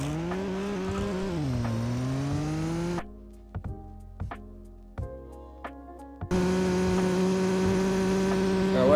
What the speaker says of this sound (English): let's drive up to 200 miles per hour